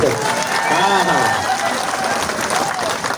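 Crowd applause at a farmers' protest rally in Belagavi, Karnataka, steady dense clapping throughout, with a voice speaking over it.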